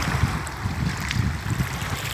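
Waves wash steadily against the Red Sea shore in a continuous low rumble, mixed with wind buffeting the microphone, with no voices.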